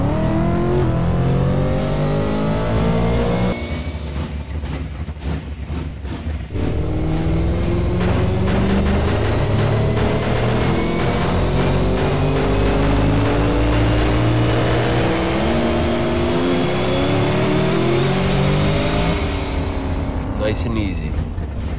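A pro mod drag car with a steel body and supercharger blower revs in the racing game Doorslammers 2, a loud, sustained engine roar with rising and falling pitch sweeps, while someone talks over it.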